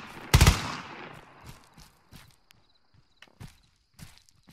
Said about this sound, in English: I get 5 seconds of intense fire.